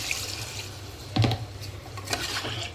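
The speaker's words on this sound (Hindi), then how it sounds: "तो इसमें डाल देती हूँ पानी" Water is poured into a cooking pot of fried masala chicken and potatoes, a faint, close splashing and trickling with one brief louder slosh midway; no one speaks.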